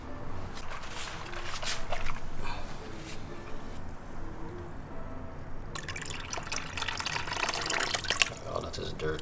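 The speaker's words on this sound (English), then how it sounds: "there's some dirt and residue on the inside, so let's just wash that out real quick." Water splashes and runs through a motorcycle radiator, an R1's, as dirt and residue are rinsed out, with a steady liquid flow that intensifies toward the end, under some nearby voices.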